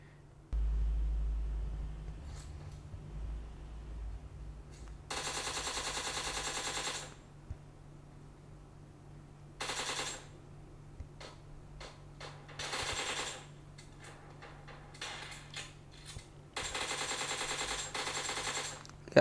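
Gunfire rings out in a mobile shooter game, with several loud bursts of rapid automatic shots, each lasting about one to two seconds, separated by quiet pauses and a low steady hum in the background.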